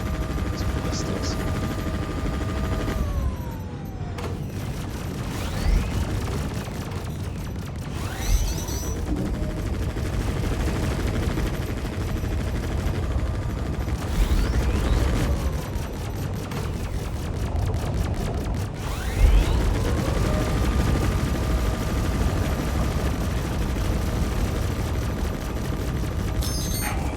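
Ballistic turret gunfire rattles through a capital-ship fleet battle in Star Citizen, dense continuous bursts with occasional heavier booms, while steady computer warning tones and a droning engine hum sit underneath throughout.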